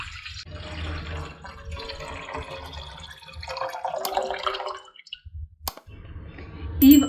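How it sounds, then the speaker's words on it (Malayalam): One litre of water is poured into a pan in a home kitchen, a close, trickling pour heard in bursts amid handling clatter, ending with a louder splash. "1 ലിറ്റർ വെള്ളം കറക്റ്റായിട്ട് മെഷർ ചെയ്ത് ഒഴിക്കാം."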